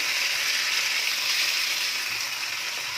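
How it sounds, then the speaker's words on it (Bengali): Marinated chicken sizzles in hot oil in a kadai for Bengali chicken kosha, a loud, dense, continuous hiss of frying heard up close without any voices. "দিয়ে এটাকে একটু 2-4 মিনিট একটু ভালো করে আগে তেলের সাথে কষে নেব"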